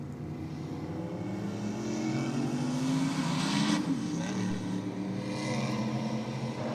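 A drag racing car with a twin-turbo LS engine and a boost adder roars down the track. The engine note is heard from a distance, building and swelling midway through a continuous run.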